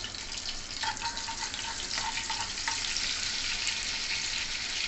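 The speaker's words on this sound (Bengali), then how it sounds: "কড়াইতে আমি একটু সাদা তেল দিয়ে দিয়েছি, আর দিয়ে দিচ্ছি একটু বাটার।" Butter melting into hot white oil in a kadai gives a continuous close hiss, fairly even throughout, with faint watery crackle and small pops through the middle.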